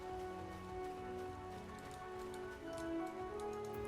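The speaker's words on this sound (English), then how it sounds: "I wish it was not raining" Steady, soft rain patters continuously in FFXIV Endwalker, layered under a sustained tonal music bed, with no voices.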